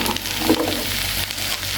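Mor kuzhambu, a buttermilk curry, simmers in a pot over a low flame, giving a steady close bubbling hiss that holds evenly throughout.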